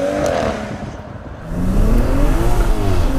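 A tuned 560 bhp BMW M135i pulls away on the road, its engine note swelling from a dip into a loud, rising acceleration roar with rumbling lows, heard from inside.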